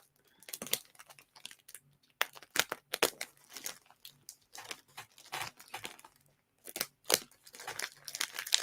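A taped parcel of yarn being worked open by hand, with bursts of crinkling plastic and tape tearing in irregular close-up rustles, scratches and short rips, no talking.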